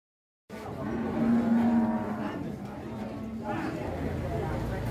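Sacrificial cattle at the Ambulu livestock market moo in long, low, drawn-out calls over a crowded, busy background, with people talking nearby throughout.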